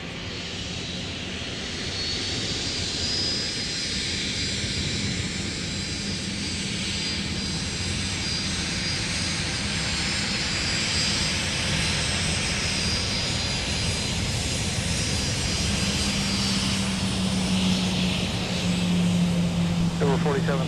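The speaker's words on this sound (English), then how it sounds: "this aircraft exits the south parallel runway at taxiway Mike" An Allegiant jet taxiing off the south parallel runway at Minneapolis–St. Paul airport, a steady broad engine roar that holds for the whole stretch and swells slightly near the end, heard from a distance.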